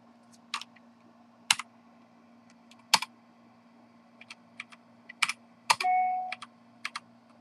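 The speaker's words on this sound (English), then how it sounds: "I'm just using the arrow keys and pressing the delete key to delete" Keys clicking on a computer keyboard, mostly arrow and delete keys, as save files for the iOS version of Injustice are cleared; sparse, irregular close taps with short gaps, alone and without talk.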